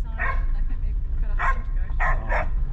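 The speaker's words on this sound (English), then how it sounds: "This is the dogs." Several dogs bark in short yapping bursts at a holiday spot in Rarotonga, four distinct outbursts close by over a steady low background, with people talking around them.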